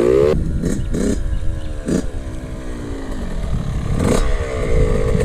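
A Yamaha YZ65 motocross bike rides a practice track, its small two-stroke engine buzzing loudly and close with rising and falling revs as it shifts through the gears.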